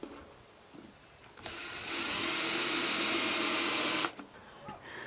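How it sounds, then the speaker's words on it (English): Power drill countersinking the bottom of a scrap-wood feather board: a single sustained high whine lasting a couple of seconds, close and loud, with quiet handling noises before and after. "Alright, now I'm just going to countersink the bottom."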